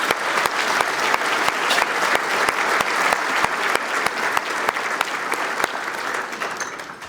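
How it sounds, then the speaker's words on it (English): A large audience at a town ceremony claps for a local celebrity taking the stage, loud, dense applause sustained evenly throughout with sharp individual claps standing out near the microphone. "Let's give him a round of applause"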